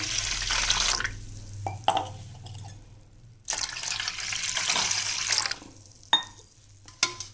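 Two cups of water pour into a bowl of semolina in two long hissing streams, separated by a pause with soft clinks, with a few brief knocks near the end.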